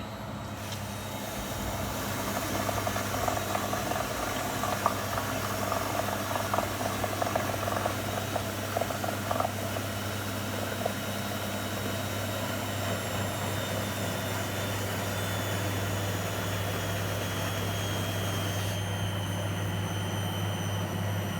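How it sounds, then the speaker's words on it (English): A Beko WM74135W washing machine running an empty turbo drum clean, its drum spinning unbalanced with a steady low hum and rattling vibration that holds throughout. "Like the machine's vibrating and nothing's in it."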